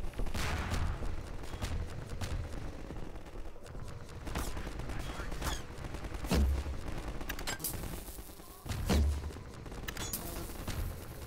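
Gunfire in the video game Half-Life 2: repeated sharp shots and bursts at irregular intervals over a busy game soundscape, with heavier thumping impacts in a few places.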